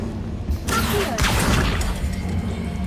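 A spell-casting effect in Hogwarts Legacy, heard as a sudden whooshing burst that flares and fades over a steady game ambience. It is moderately loud and there is no talking.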